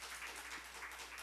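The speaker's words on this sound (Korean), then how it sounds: "우리 하나님께 박수 올려드려요" A church congregation applauds during a Sunday sermon, a steady, dense wash of clapping from many hands that holds evenly for a second or so with no voices.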